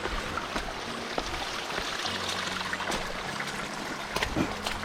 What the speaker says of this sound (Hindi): जगह जगह से पानी आ रखा है